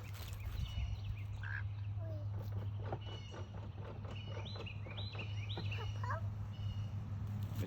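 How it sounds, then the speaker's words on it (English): Swedish blue ducks give scattered quacks and short calls at moderate distance over a steady low outdoor hum, with some faint chirps mixed in. "But them are Swedish blue ducks."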